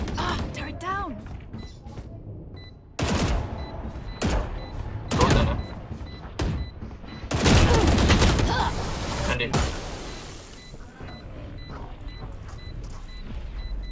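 Gunfire in the Valorant video game crackles in loud bursts and rapid volleys, close and sharp, with a player talking between shots.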